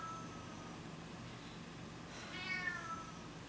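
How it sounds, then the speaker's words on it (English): A single cat meows in a home kitchen where noodles are being cooked, a short, fairly faint, rising call near the end of the clip over steady low background hum. "There's a cat."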